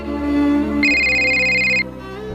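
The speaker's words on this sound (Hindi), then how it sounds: "अरे मेरी बिटिया का फोन आया, बहुत दिन बाद फोन आया।" A mobile phone ringtone plays a loud, steady electronic melody indoors for about a second before it cuts off, with no talking heard.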